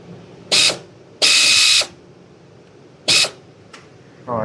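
Ratchet working a 10 mm bolt near the crankshaft pulley of a 2021 Genesis G70 3.3 during water pump replacement, heard as a few loud, close bursts of rapid clicking separated by pauses.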